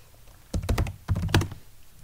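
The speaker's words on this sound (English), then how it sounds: "And if I type sudo apt-get install gedit," Quick typing on a computer keyboard to enter a Linux terminal command, two short bursts of close, clacking keystrokes separated by a brief pause.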